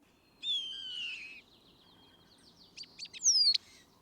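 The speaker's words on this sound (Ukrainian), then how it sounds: "А як співає шпак? Давайте послухаємо." Starling song, a bird singing alone with varied whistles and chirps: a sustained warbling phrase, a pause, then a quicker burst of sharp clicks and a rising whistle, clear and close against a quiet background.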